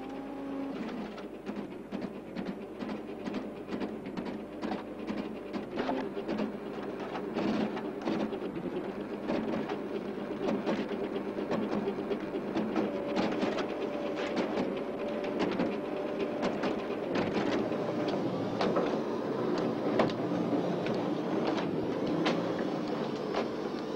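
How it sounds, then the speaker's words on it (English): A 1977 office printer types out a letter from a magnetic card onto paper, producing a dense, rapid clatter of mechanical strikes over a steady hum, loud and close throughout, with no voices. "the printer transfers the letter from the magnetic card to paper within 10 seconds"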